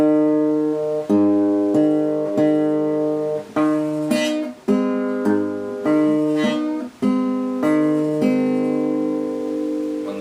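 Bass-side part of a song played on acoustic guitar, a steady thumping alternating bass pattern of plucked low notes with ringing sustain, close and fairly loud, about a dozen even beats, no voice.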